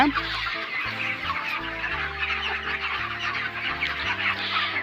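A flock of broiler chickens on a farm clucks and murmurs continuously while feeding, a dense close-up chorus of overlapping calls over a low steady hum.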